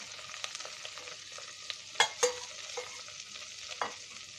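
Flour toasting in melted butter in a pan makes a soft, steady sizzle while a spoon scrapes and taps against the pan, a few sharper knocks standing out near the middle and no voices.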